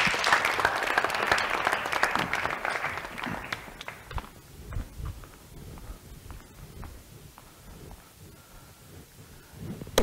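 Audience applause welcoming a hypnotist speaker at a TED-style talk, loud clapping from a crowd that fades over several seconds into scattered claps and shuffling.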